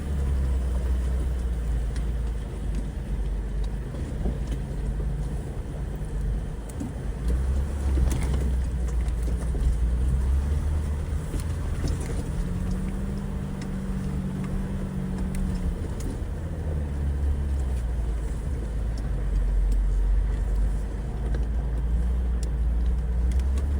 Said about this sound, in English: right now I'm in 2nd gear, and you can hear the motor.